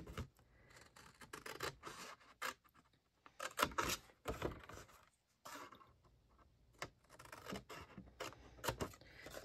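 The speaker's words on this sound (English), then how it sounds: "cut it down the middle." Scissors cut paper down the middle while making a carousel album, giving a close, quiet series of crisp snips and rasping slides in irregular bursts with short pauses between them.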